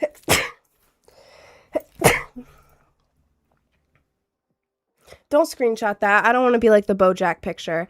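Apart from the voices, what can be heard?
sneeze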